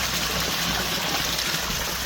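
Water from a pond waterfall pours steadily into the pond, a constant close rushing and splashing with no pauses.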